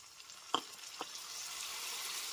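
Spices, cumin powder and Kashmiri chilli powder, sautéed with a little water in a pan while spinach cooks, give a soft, steady frying hiss, with two light scrapes of a spoon near the start.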